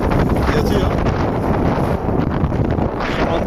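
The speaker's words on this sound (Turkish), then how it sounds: "Güzel bir rüzgar çıktı şu anda." Strong wind roars steadily across the microphone aboard a heeling sailboat under way near Paşalimanı island at sunset, a loud continuous rushing buffet with no pauses.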